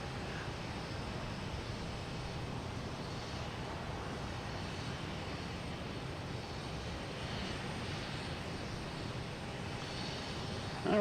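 A JetBlue airliner at Boston Logan Airport gives off a faint, steady distant engine roar, a broad even rush that holds throughout with no talk.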